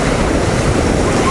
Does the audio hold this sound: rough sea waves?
yes